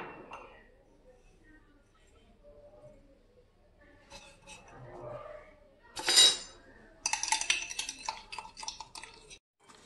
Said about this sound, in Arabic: نخلطوهم مزيان، الزيت والسكر والبيضة